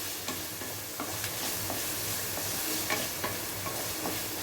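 Vegetables sauté in a pan for kodo millet (varagu) rice khichdi, giving a soft, faint sizzle broken by light, irregular clicks and scrapes of stirring.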